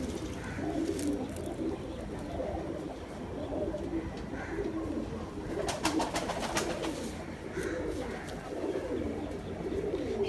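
Large breeding male pigeons coo in repeated low, throaty rolls, several birds close by over a steady outdoor background, with faint chirps now and then.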